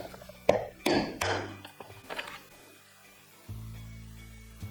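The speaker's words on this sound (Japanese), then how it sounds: "でこちらにも穴を開けます。" Holes being punched through kimono fabric while making a smartphone pouch: two or three sharp close taps or hammer blows in quick succession, then quieter handling noises and a low hum.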